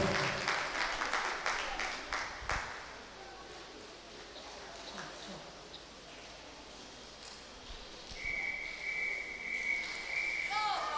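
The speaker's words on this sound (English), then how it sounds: "Let's give these 3 swimmers a great round of applause." Spectators at a county swimming championship applaud after a race, clapping strongest at the start, then fading to scattered claps amid echoing pool-hall noise, with a steady tone and announcer talk nearby.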